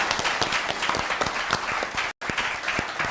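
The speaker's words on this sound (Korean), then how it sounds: "우리 박수 한번 보내드리겠습니다." Steady applause from an audience in a National Assembly members' hall in Seoul, dense clapping held at an even level, with a very brief dropout near the end before it carries on.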